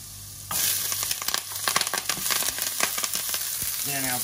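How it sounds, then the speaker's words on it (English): Ginger and garlic hit hot olive oil in a pan, bursting into a loud, steady sizzle with sharp spits and crackles for about four seconds; a brief harmonic tone rises near the end. "nice hot pan, a little bit of olive oil in there. First goes in our ginger and our garlic. Just get that working."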